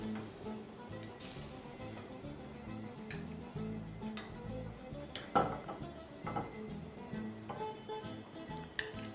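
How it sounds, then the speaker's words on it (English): Bacon slices sizzling softly in a frying pan, a low steady crackle with clinks of utensils against the pan and a few sharper knocks. "you can now turn down your pan and just move your bacon slices onto a plate or a bowl"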